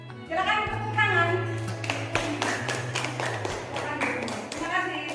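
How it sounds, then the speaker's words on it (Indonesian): Students in an Indonesian primary classroom clap in scattered, uneven bursts during a lesson, with a teacher's voice speaking over and between the claps. "Silakan tepuk tangan."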